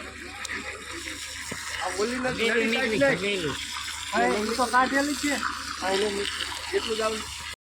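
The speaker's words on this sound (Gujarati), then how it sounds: "આ બાજુ પાણી નાખશે ને આ બાજુ નળી હાલે છે" Water runs from a hose at a house construction site, a gushing splash beneath people talking loudly nearby.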